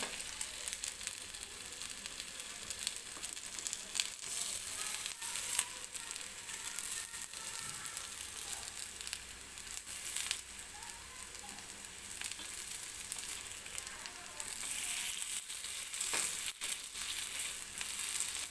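Rava appe sizzling and frying in oil in an appe pan while being gently flipped, a steady close crackle throughout with no talking.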